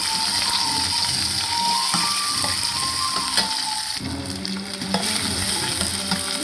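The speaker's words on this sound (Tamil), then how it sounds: "பட்டை கிராம்பு எல்லாம் போட்டு அது பொரிஞ்சதும் என்ன பண்ணிடலாம் கொஞ்சமாக வெங்காயத்தை கட் பண்ணி போட்டு இதை கிண்டி விடணும்" Sliced onions sizzle in oil with cinnamon and cloves as a spoon stirs them, giving a continuous frying hiss broken by scraping stir strokes and a few clinks in a road-side salna preparation.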